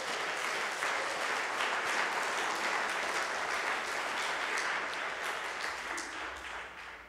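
Sustained audience applause at a German conference session on rights clearance, dense steady clapping from a full room that tapers off slightly at the end.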